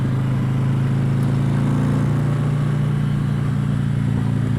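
Harley-Davidson Electra Glide motorcycle on a rental trip in northern Arizona near the West Grand Canyon, a steady low engine rumble idling or cruising continuously and loudly throughout, with no talk.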